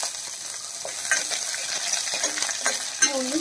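Dried red chillies and chopped shallots sauté in a pan for tomato pulisseri, giving a steady close sizzle broken by scraping stirs and light clinks, with no talking.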